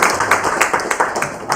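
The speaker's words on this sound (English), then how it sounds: "Another round of applause for them." A crowd at an African Liberation Day celebration gives a short burst of applause, with loud, distinct claps standing out in a rough rhythm for a second or two.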